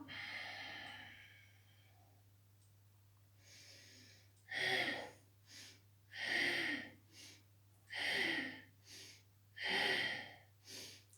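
Slow, audible breaths out during a yoga session recur in a steady rhythm of several long exhalations, close and fairly soft over a low background hum.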